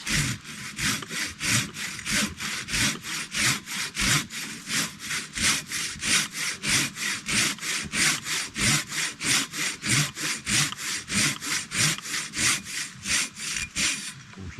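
A Silky Katanaboy 500 folding saw cuts through a bent log during trail work in steady, rhythmic push-pull strokes, about three per second. The rasping is loud, close and continuous for the whole stretch, with no talking.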